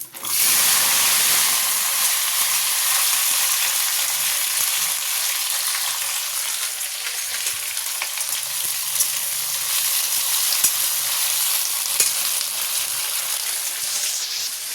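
Bean curry frying in hot oil in a wok, a continuous, close sizzle and hiss that stays fairly even, with occasional faint crackles and clatter.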